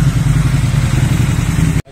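A motorcycle engine runs steadily close by on a Mentarang Bakar group ride, its loud, rough mid-pitched drone continuing without a break before cutting out abruptly near the end.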